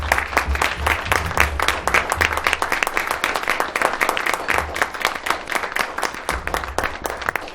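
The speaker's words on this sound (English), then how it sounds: "let's all stand and give this remarkable young lady a round of applause" A commission meeting audience gives a young lady a round of applause, sharp dense clapping close by that keeps a steady rhythm throughout with little else.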